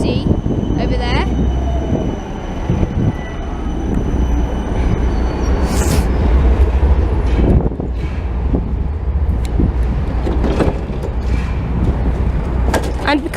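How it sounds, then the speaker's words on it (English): Budapest tram rolling in off a reverse siding, a steady rumbling rail drone with wheel squeals and clanks rising near, wind buffeting the microphone and people talking over it. "here's our tram, just come off the reverse siding"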